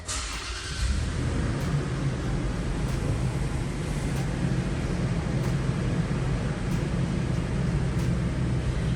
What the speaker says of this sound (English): And now I'll just get in the vehicle and turn it on for you. This vehicle is a push to start.